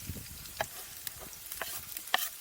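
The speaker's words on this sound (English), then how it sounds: "The chilies, yep, they're frying nicely." Chillies and garlic frying in a pan on a camp stove outdoors, a low quiet sizzle broken by a few sharp scrapes and clicks of stirring, close and faint, with no voices.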